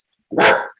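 A single sharp dog bark, loud and close, standing alone against silence.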